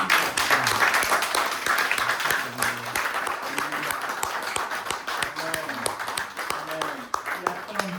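Church congregation applauding together to acclaim the Lord, a dense, steady wash of clapping that holds for several seconds while a voice talks over it.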